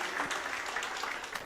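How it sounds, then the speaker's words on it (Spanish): Brief, faint applause from the audience of a community panel discussion about La Sanjuaneada of San Andrés Mixquic, a soft, even patter of clapping that sounds somewhat distant. "De verdad vamos a darle un aplauso a Ricardo"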